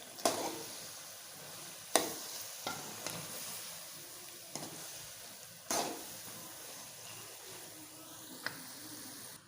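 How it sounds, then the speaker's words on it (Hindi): A spoon stirs ash gourd halwa roasting in a pan, producing soft scraping scrapes and occasional sharp taps against the metal over a faint sizzle, fairly quiet overall. "अभी इसको जरा मिक्स कर लेते हैं और फिर भूनते हैं।"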